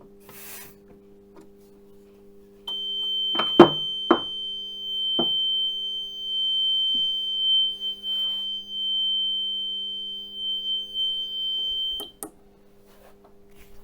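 A fire detection panel on a training mock-up sounds its zone 03 alarm, a steady high-pitched electronic tone held for about ten seconds with a few clicks and handling knocks at its start.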